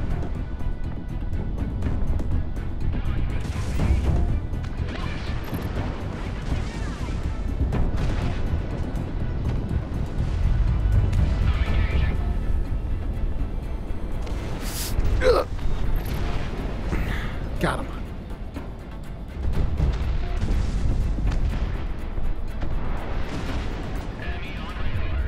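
Bomb explosions roll through a Project Wingman combat mission played in VR, a continuous heavy rumble of deep booms with a few sharper cracks, while a player talks over it.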